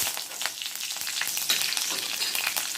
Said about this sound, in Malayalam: കടുക് പൊട്ടിക്കഴിഞ്ഞു ഇതാ മുളക് രണ്ടെണ്ണം വറമുളക രണ്ടെണ്ണം ഉള്ളി ഇട്ടത് കറിവേപ്പില